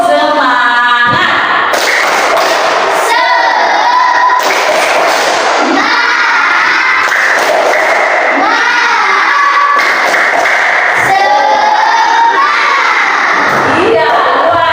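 A classroom of children beats out the rhythmic tepuk semangat spirit clap, loud and close. Bursts of patterned clapping are broken by short pauses, and children shout and chant along.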